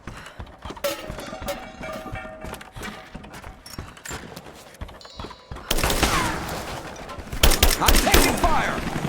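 Gunfire in the video game Rise of the Tomb Raider comes as dense bursts of shots, with louder volleys toward the end, amid busy game effects and a bit of character dialogue.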